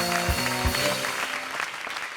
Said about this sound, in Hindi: तालियों से स्वागत कीजिए Archana Puran Singh, Satish Shah and Johnny liver का।